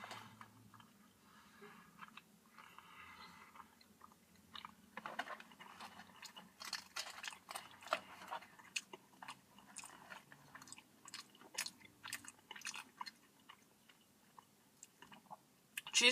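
Someone munching on an A&W basket of cheese curds, fries and gravy, with close, quiet crunchy bites and chewing clicks that repeat irregularly and grow denser, no talking.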